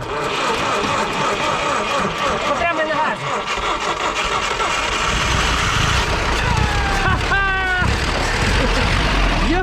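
A worn GAZ-69 engine with a badly tired motor starts and revs loudly up close, rough rattling mechanical roar rising and falling, with people talking over it.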